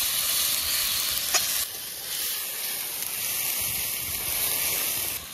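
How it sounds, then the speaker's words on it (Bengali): Ginger, garlic and green chilli paste sizzles in a pan with onions, a steady bright frying hiss with a short clatter of stirring near the start and the sizzle continuing evenly throughout. "এই পেঁয়াজের মধ্যে দিয়ে দিচ্ছি আদা রসুন বাটা। আদা রসুন আর কাঁচা লঙ্কা বাটা, তারপর ভালোভাবে নাড়াচাড়া করে নিচ্ছি।"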